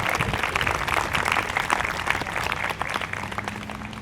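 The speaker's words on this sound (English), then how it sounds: "How about a nice round of applause?" A town band concert audience breaks into sustained applause, dense clapping from many hands holding steady throughout, with a faint low hum entering near the end.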